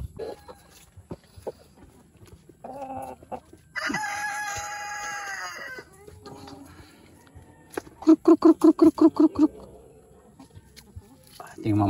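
Free-range chickens of mixed breeds, including an Olive Egger, cluck near the microphone, and a rooster gives a long crow, followed by a rapid run of loud, pulsing clucks. A person talks between the calls.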